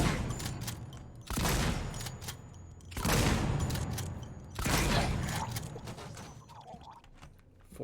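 Gunshots ring out in the video game Alien Isolation, three or four loud, sharp blasts spaced about a second and a half apart, each trailing off into a short decay, with no talk over them.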